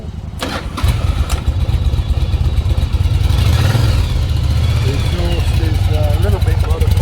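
A Yamaha Virago XV750 motorcycle with a modified exhaust cranks and fires up, then settles into a loud, steady, throbbing idle close by, with a person talking over it.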